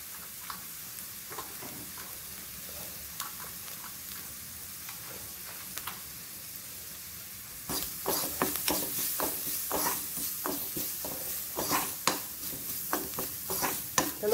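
Grated coconut and pepper fry in a pan for thoran with a soft, steady sizzle. After a few seconds a spoon starts stirring, adding a run of close scraping and tapping strokes.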